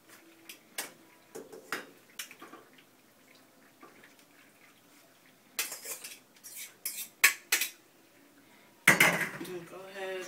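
Noodles are stirred into a cheese sauce in a pot for lobster mac and cheese, with sparse, quiet clinks and scrapes of a utensil against metal and a louder clatter near the end.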